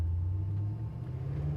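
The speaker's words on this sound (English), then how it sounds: "the exhaust is really nice on the truck too. It's not overly loud, but it's got a good rumble to it" Deep, steady exhaust rumble from a restomod 1967 Chevrolet C10 truck, low and even with a slight swell near the end, no voices.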